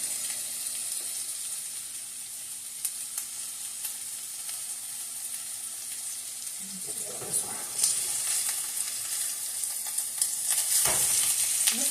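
Lean turkey Salisbury steak patties sizzle as they brown in a pan, a steady close hiss of frying with occasional spatter and light scraping, while a voice speaks faintly now and then.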